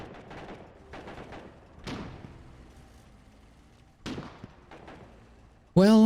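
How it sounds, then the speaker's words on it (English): Gunfire in the online war game Foxhole, with sniper shots mixed among other battlefield fire: several sharp bangs with echoing tails spaced a second or two apart, one louder crack near the end. "So that's the sound of a sniper."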